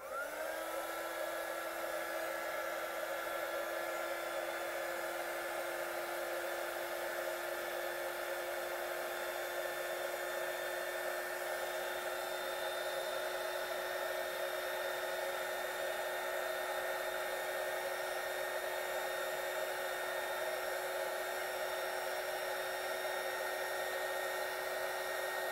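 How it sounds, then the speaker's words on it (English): Heat gun blowing steadily and loudly at close range for the whole stretch, a constant whirring hiss with no breaks, used to melt the top of an essential oil wood wick candle. "I'm going to use the heat gun just to melt the top a little."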